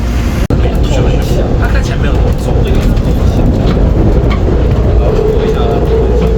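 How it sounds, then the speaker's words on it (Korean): An airport rail train heading to Taoyuan airport rumbles steadily from inside the carriage, a loud continuous roar of wheels and motion with faint clatter throughout, with a brief sharp click near the start. "공항 철도를 타고 타오현 공항으로 가보도록 하겠습니다"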